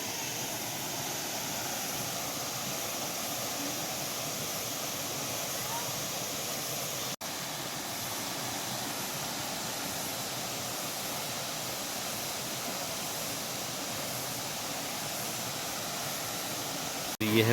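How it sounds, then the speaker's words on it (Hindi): A waterfall rushes in a steady, loud, broadband roar that carries on unbroken through the whole stretch, heard up close from a wooden viewing platform with iron railings. There is a single brief dropout partway through. "साफ कलकल करता हुआ झरने का शोर।"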